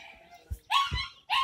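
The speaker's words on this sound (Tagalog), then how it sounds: "Ito yung aso namin." A black dog tied up outdoors gives two short, high, rising yelps or whines after a few faint low thumps, fairly close and moderately loud.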